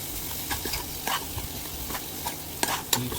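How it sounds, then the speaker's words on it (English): Tomato masala for masala brinjal being stirred as it cooks in a pan: a constant soft sizzle with irregular scrapes and clinks of the spoon, a couple of sharper knocks near the end, no talking. "Keep stirring so that the masala does not get burnt."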